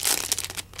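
Card-and-sticker packaging is crinkled open up close, a quick series of crisp rustles and crackles with no talking.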